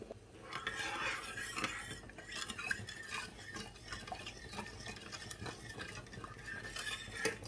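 A spoon stirs pickling liquid of vinegar and sugar in a metal pot for mango pickle, making continuous clinking and scraping against the sides at a steady, moderate pace.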